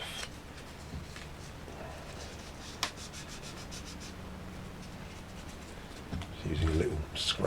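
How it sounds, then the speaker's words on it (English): Residue being rubbed off a 1/48 Tamiya Spitfire Mk.1 scale model, a soft continuous close scuffing with a sharp tick near the middle and heavier rubbing toward the end, while a person talks throughout. "So hopefully now if I just start rubbing this"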